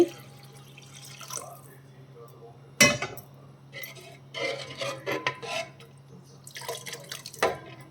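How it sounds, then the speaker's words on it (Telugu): About two glasses of water are poured into a pot of korameenu fish curry with raw mango and okra, heard as splashing and trickling with dripping, occasional clinks of a glass or utensil, and intermittent background noise. "వాటర్ ఇంకొక 2 గ్లాసులు వేసుకుంటున్నానండి."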